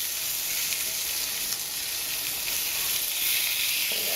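The fatty edge of a pork belly sizzles steadily as it browns in a hot pan, a constant close hiss and crackle with no pauses or voices.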